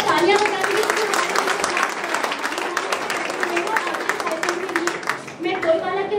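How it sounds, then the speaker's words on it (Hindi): An audience at a college anti-drug awareness event applauds, brisk continuous clapping with voices mixed in and a tonal hum underneath, dipping briefly near the end before resuming. "तो एक बार तालियां बजा दीजिए।"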